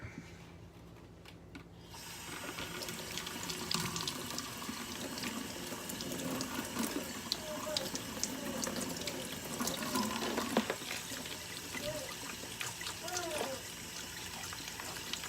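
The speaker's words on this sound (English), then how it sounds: "this is warm water that we're doing this with" Warm water runs steadily from a tap in a continuous close, moderately loud rush, with faint handling noises in the background and no one speaking.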